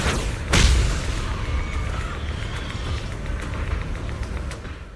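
The array base in Zenless Zone Zero explodes with a sudden deep boom, followed by a sustained rumbling roar that slowly fades, with no talking.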